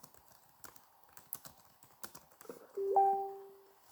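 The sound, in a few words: computer keyboard typing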